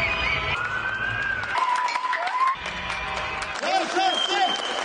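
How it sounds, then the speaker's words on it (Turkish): People clap from balconies for health workers during the coronavirus pandemic in Turkey, a dense, sustained applause with whistles, shouts and distant voices mixed in. "dakikalarca alkışladı."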